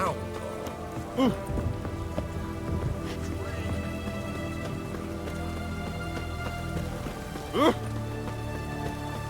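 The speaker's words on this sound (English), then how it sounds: "What a downpour." Heavy rain pours down steadily in The Witcher 3, a dense constant hiss of drops on surfaces, with a couple of brief voice exclamations breaking through.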